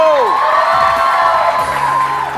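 Studio audience on a Hindi TV talk show cheers and whoops to welcome a guest onto the stage, a loud, sustained crowd roar with some high shouts, while a sweeping musical tone rises and falls beneath it.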